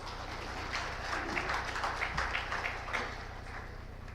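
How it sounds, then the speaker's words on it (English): An audience applauds panelists at an energy-efficiency financing conference session: a dense, sustained wash of many hands clapping that swells slightly midway and carries on without speech. "Can we please have a round of applause for our panelists?"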